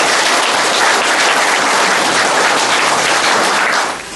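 Loud, dense applause from the audience at a multisectoral meeting of provincial authorities, a sustained burst of clapping that holds steady for about four seconds before dropping off at the end.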